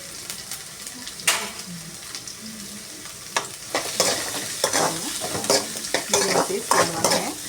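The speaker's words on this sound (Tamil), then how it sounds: "இப்போ வெங்காயம் பொறுப்பேன் பாருங்கள்" Two medium-sized onions fry in oil over a high flame with a bright, crackling sizzle, broken by frequent scraping stir strokes that grow busier toward the end.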